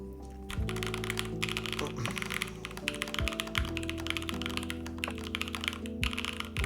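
Steady, rapid clacking of mechanical keyboard keys, fairly close, with a few deeper thocks over a constant low hum.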